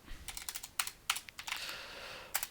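Bursts of typing on a computer keyboard while writing a plain text file, close and fairly quiet, with a quick clatter of keystrokes, brief pauses and a final short run of taps.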